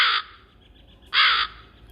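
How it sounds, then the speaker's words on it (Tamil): Two loud, harsh crow caws, evenly spaced about a second apart, close and clear against a quiet background. "காகம் கரையும் கத்தம்."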